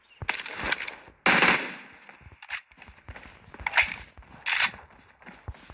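Video game gunfire comes in several sharp bursts and single shots spread across the moment, loud and close, with gaps of quieter clicks between them.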